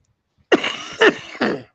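Three harsh coughs burst out close up after a moment of silence, each rough and raspy, the last trailing off.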